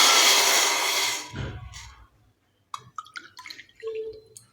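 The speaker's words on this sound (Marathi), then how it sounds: "या ग्लासने बरोबर दोन ग्लास पाणी ओतणार आहे" Water pours in a steady stream for about a second, then a splash, followed by light clinks and small drips in a quiet room.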